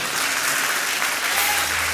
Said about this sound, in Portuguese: Então aplauda.